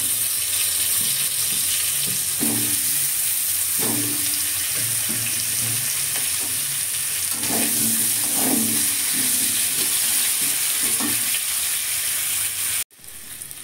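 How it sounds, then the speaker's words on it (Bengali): Potatoes fry in hot oil in a pan with a steady sizzle and occasional bubbling pops throughout, close and fairly loud, ending with a brief clatter. "এবার আলুটা ভেজে নিচ্ছি।"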